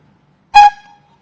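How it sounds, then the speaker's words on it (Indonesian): A satay street vendor's vehicle horn gives one short, loud, bright honk up close, fading quickly into silence. "Ini klakson tukang sate"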